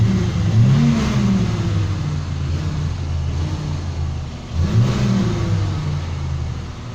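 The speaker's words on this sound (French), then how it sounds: "je vous laisse sur ce magnifique bruit d'accélération que je lui ai donné" A warmed-up Peugeot 404 engine idles roughly and is revved hard twice, each rise swelling loudly before settling back to a throbbing idle, close and with no talk.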